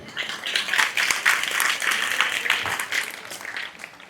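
An audience at a live comedy and music stage show bursts into dense, sustained applause for about four seconds, swelling quickly and tapering off at the end.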